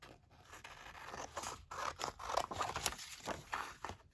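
Scissors snip through a magazine image being fussy-cut for a Dollar Tree paper journal, with a run of close, crisp cuts and small rustles of paper, irregular in rhythm and moderately quiet, with no talking.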